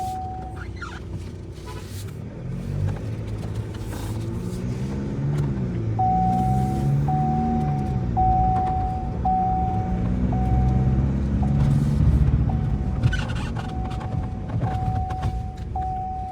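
An MG Gloster SUV driven in sports mode: a steady engine and road hum that rises and falls with acceleration, under a repeating electronic chime and occasional clicks from the cabin.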